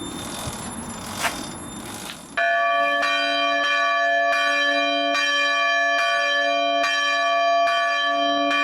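A newly installed church bell, switched on mechanically, rings in steady, evenly spaced strokes, each ringing out with a bright sustained tone, after a brief stretch of mechanical rumble.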